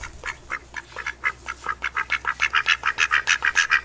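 Ducks quacking from a website, a rapid run of nasal quacks coming close and regular, growing louder and denser toward the end, with no talking.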